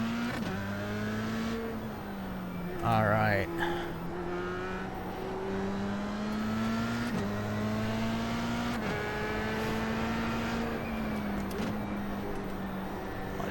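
Formula 3 race car engines in the racing game iRacing at Zandvoort drone steadily with rising and falling revs as gears shift, a brief spoken word partway through.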